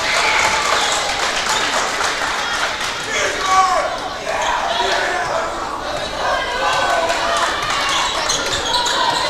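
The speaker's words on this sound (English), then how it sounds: "The crowd is going wild for the Watchdogs." A high school girls basketball crowd with a loud student section cheering and roaring continuously, with ball bounces and chatter mixed into the dense, steady noise.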